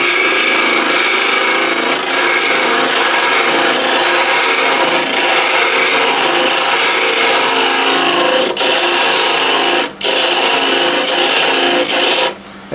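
A wood lathe tool hollows out a wooden salt and pepper shaker, a loud, steady scraping and shaving hiss running nearly unbroken, with a couple of brief dips where the cut pauses.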